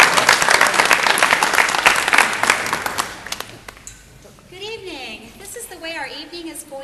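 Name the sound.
audience applause for forum candidates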